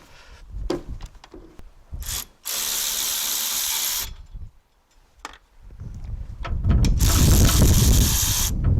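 A 13mm wrench cracks loose the wiper arm nuts on a 2011 Vauxhall Corsa, with clicking ratchet bursts, scraping and brief mechanical rattles in short repeated spurts, close and fairly loud.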